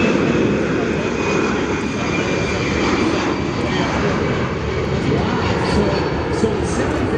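A Boeing C-17 with four jet engines roars at an air show, a loud broad continuous jet rumble and whine sustained throughout, heard from nearby outdoors.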